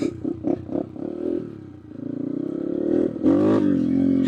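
A Big Bore BBR-built Yamaha TTR125 dirt bike on a test ride, with short choppy blips at first and then a sustained high rev that climbs and holds loudly near the rider.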